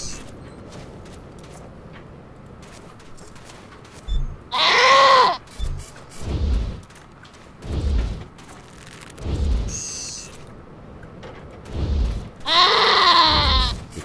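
Sheep in the video game Wasteland 3 bleat several times, loud wavering cries spaced irregularly with a few shorter grunting calls between them over quiet background ambience.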